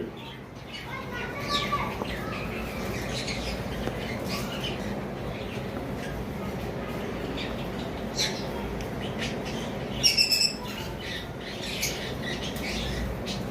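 Birds calling at a bird farm, including a pair of cremino cockatiels, with faint chirps and tweets scattered across a low murmur and a brief cluster of brighter calls, soft and partly in the background.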